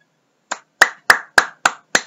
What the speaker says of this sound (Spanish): aplauso para la momia